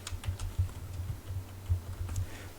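Quick typing on a computer keyboard while entering text in image-editing software, a steady patter of light key clicks close by with no voice.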